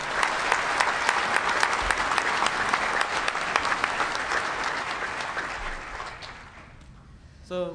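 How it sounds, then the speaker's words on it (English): A hacker conference crowd at the DEF CON 17 closing ceremonies applauds steadily for about seven seconds, dense clapping that thins and fades near the end. "So if you can give him a round of applause"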